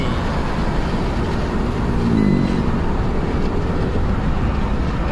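A Proton Exora Bold's engine revs after a timing belt repair, a steady loud mechanical drone that swells briefly partway through and stays constant throughout, with no talk.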